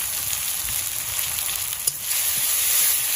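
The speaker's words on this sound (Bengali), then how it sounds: "মশলাটা খুব ভালো করে কষিয়ে নেব" Spices with salt and turmeric sauté in a pan for a village-style Bengali dhokar dalna, a steady close hiss of frying with one small clink of a stirring utensil partway through.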